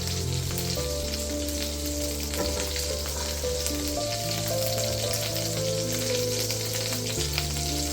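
Garlic frying in a pan for crab noodle soup, a steady loud sizzle and crackle close up, with a low hum underneath and no talking.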